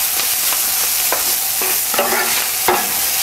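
Spicy beet greens with chili peppers, salt and pepper sizzle in a pan under a steady crackle, while clanking tosses break in about every half second.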